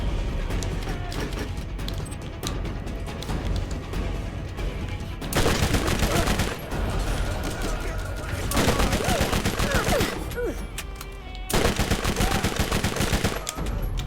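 Rapid automatic gunfire from a spraying weapon in the video game Borderlands crackles in three dense bursts of a few seconds each over steady game noise, with a voice talking quietly underneath.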